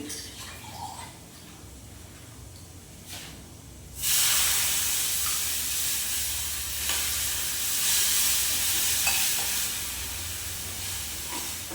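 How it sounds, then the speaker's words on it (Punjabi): Tempering (tadka) for dal in a pan in a Punjabi home kitchen: after a quiet start, a sudden loud sizzle erupts and holds steady for about eight seconds, close up and alone. "ਪਕਾ ਲੈਣੀ ਹੈ ਤੜਕੀ"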